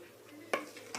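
Dishes and serving utensils clink softly as noodle salad is plated, with two quick close taps against a faint background and no voices.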